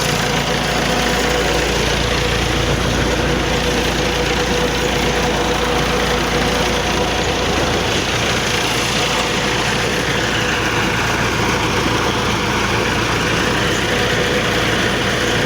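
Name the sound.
Massey Ferguson 285 tractor engine running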